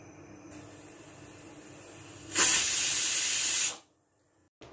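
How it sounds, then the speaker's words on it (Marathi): A pressure cooker on a medium flame, cooking stuffed brinjal, lets off one loud steady whistle-hiss that rises suddenly, holds for about a second and a half, then cuts off into quiet. "आता कुकर मी थोडासा मध्यम आचेवर करते। आपल्याला एकच शिटी मारायची आहे।"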